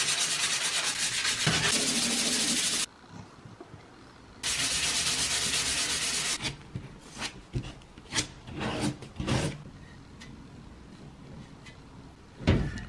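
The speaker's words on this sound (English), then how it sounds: "I'm just gonna sand that down a bit more." Body filler on a BMW E36 being sanded down, with long bursts of harsh abrasive rasping from a power sander close by, a pause between runs, then shorter hand-sanding strokes and scrapes.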